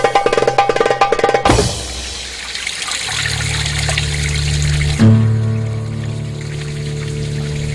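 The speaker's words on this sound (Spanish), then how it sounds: "mientras escuchamos un singular y agradable susurro del agua" Water runs and trickles in Vélez de Benaudalla on the Costa Tropical, a steady close murmur. A sharp transition comes partway through, and a soft tonal hum sits beneath the flow.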